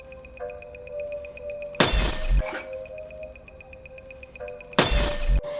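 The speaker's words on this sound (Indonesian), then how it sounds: "Ia pun mulai menjatuhkan gelas ke lantai hingga pecah berserakan." Two loud, sudden bursts of glass shattering on a floor in the horror game Choose or Die, a few seconds apart over a steady electronic tone.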